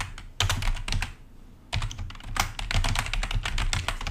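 An email address is typed on a computer keyboard in two quick bursts of close, crisp key clicks separated by a brief pause, with no voices.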